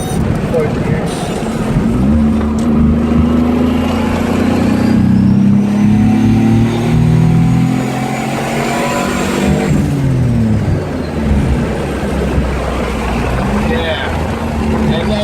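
A car engine with an idle air control valve accelerates and shifts up through the gears, rising engine tones holding steady and loud throughout while someone talks over the drive.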